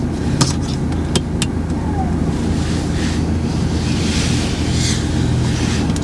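Interior rumble of a learner's car pulling out of a car park during a driving lesson, a steady low engine and road drone with wind buffeting, plus a few sharp clicks or knocks near the start.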